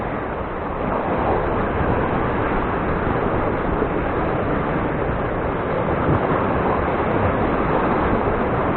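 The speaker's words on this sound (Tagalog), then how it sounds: "Nanook kasi kapag inampas ng alon na malakas" Strong ocean surf pounds steadily on a rough coast where people are fishing, a loud, continuous roar mixed with wind rumble against the microphone, and no voices.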